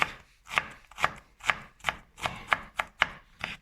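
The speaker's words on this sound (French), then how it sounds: "Et on va le hacher, mais un peu grossièrement" A knife chopping an ingredient coarsely on a cutting board, about eight crisp, evenly spaced thuds in a steady rhythm, close and clear with nothing else heard.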